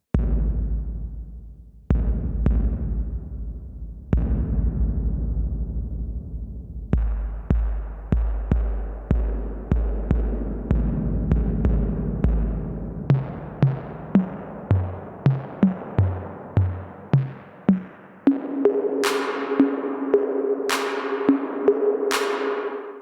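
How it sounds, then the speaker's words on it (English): AudioKit haQ Reverb effect on an iPad or iPhone, set for a large space: sparse plucked and percussive notes ring out into long reverberant tails, later joined by bright rising sweeps over a sustained tone, with no voices. "this reverb sounds really, really good when you want to use it to create kind of big spaces"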